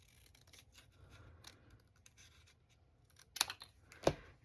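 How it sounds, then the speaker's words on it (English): Scissors trim a paper page tab for a junk journal, faint soft rustling followed by two distinct crisp snips near the end, close and quiet. "I am just going to literally trim this right here."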